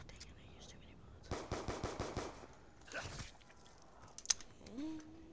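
A rapid burst of automatic gunfire in Call of Duty zombies on the Die Rise map, about seven quick shots in a row, followed by a single later shot and a faint voice.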